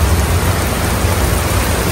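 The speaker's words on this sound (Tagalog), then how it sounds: "Grabing ulan." Heavy rain pours down in a steady, loud, broadband hiss with a low rumble beneath it, continuous and unbroken, with no voices.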